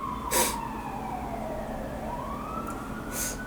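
A wailing siren in a music video sweeps down and back up in a smooth continuous tone, fairly faint, with no talk over it.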